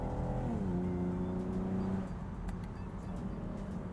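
Chevy Camaro V6 convertible engine heard from inside, droning steadily, then a falling pitch as it blips and downshifts, with the road noise continuing afterward.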